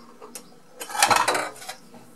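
Dirty dishes are handled in a kitchen: a short cluster of ceramic and cutlery clinks and knocks, close and moderately loud, peaking briefly in the middle between quieter taps.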